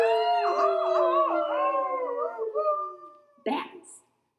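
A human voice imitates coyotes howling, with a drawn-out, wavering howl that rises and falls over about three seconds, followed by a short yip at the end, close and clear against silence.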